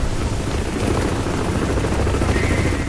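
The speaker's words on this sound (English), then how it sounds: "Is that a helicopter?" Loud, close helicopter in Crysis 3, a dense continuous rotor roar that stays steady throughout with no talk over it.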